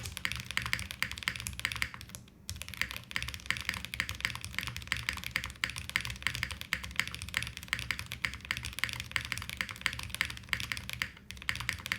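Continuous typing on a Zoom98 mechanical keyboard with somewhat muted alpha keys, a quiet, dense run of soft clacks and taps at an even pace, with two brief pauses and no talking.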